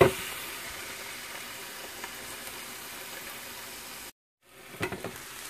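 Pre-cut pieces of food sizzle fast and steadily in a hot pan, a loud continuous crackle that stops abruptly, then a short silence followed by a few clattering knocks.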